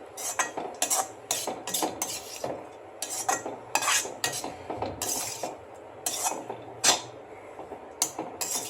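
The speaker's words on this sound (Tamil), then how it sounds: "நல்லா கிளறணும், ஏன்னா அப்புறம் தேங்காய் நல்லா 2 நிமிஷம் கிளறிட்டு" A spoon scrapes and clatters steadily in a pan as cabbage poriyal with cooked toor dal and grated coconut is stirred, sharp repeated metallic strokes over a faint sizzle, with no talk.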